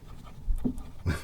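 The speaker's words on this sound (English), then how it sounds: "That's my dog complaining." A dog whines and pants softly nearby, a couple of brief low whimpers and breaths in a quiet setting beside water.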